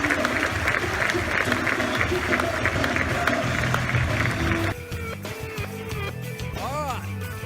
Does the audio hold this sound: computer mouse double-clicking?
no